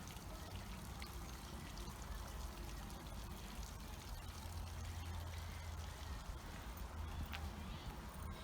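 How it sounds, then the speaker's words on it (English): Water from a fountain in front of a hotel in Bath, a faint, continuous splashing and trickling heard from a short distance, steady for the whole stretch with light background noise. "You can hear the water."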